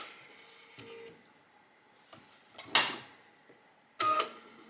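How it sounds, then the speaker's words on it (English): A sewing machine runs in short, quiet bursts of mechanical whirring with pauses between them, stitching slowly around a curve on a quilting project. "I'm just going to pop it into the sewing machine and start off the stitching."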